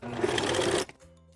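A sewing machine runs in a fast steady whir for under a second while stitching a seam around a waterproof fabric pouch, then stops abruptly, leaving a faint mechanical hum.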